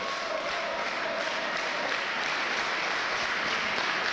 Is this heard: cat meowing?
no